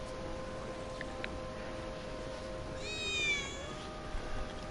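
A single short, high cat meow rings out in the Sector 7 slums of the video game Final Fantasy 7 Remake, faint over a steady ambient game background with no talking.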